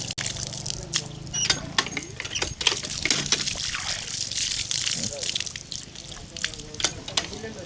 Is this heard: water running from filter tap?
yes